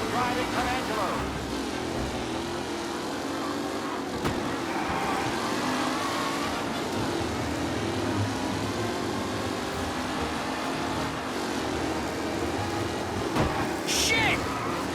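A car is driven aggressively in Mafia Definitive Edition. The engine roars loud and steady throughout, with a few sharp knocks and a brief high squeal near the end.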